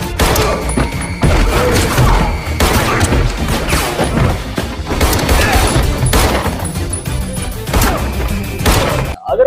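Gunfire in a John Wick: Chapter 2 gunfight scene, dense volleys of shots with thuds and crashes packed together under a movie score. It stays loud and continuous for nearly the whole stretch, then cuts off abruptly near the end.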